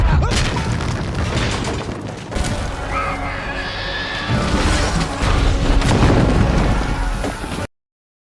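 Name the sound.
cannon fire from the Black Pearl ship attacking a town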